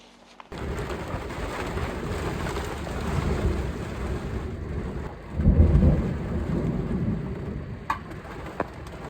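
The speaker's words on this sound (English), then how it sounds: "I look up and all this storm was rolling in" A thunderstorm rolls over a desert campsite near Superstition Mountain, with steady rain, a deep thunder rumble swelling midway, and a few birds calling faintly in the background.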